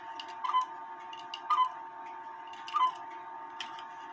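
A quarter hour cuckoo clock ticks softly and evenly in a quiet room, with a few slightly louder ticks standing out over a faint background hum.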